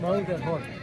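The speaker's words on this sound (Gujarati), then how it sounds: "એક ઘોડો હે તમને ઘોડા બતાવીએ" A horse gives a short, wavering neigh close by, lasting under a second, with people talking around it.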